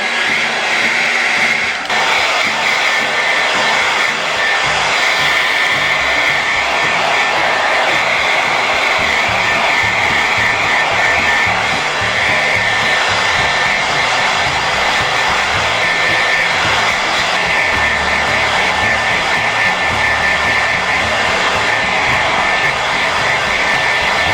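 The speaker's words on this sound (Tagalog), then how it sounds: "now I'm going to dry my hair and using the hair blower" A hair dryer blows continuously at close range, a loud, steady whooshing roar with a high whine running through it.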